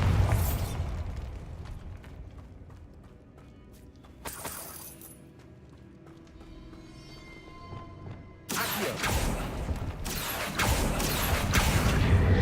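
In the video game Hogwarts Legacy, the Bombarda spell goes off in a tomb as a sudden loud burst with a crumbling, shattering rush. A quieter eerie stretch follows, then a second strong blast of debris and rumble.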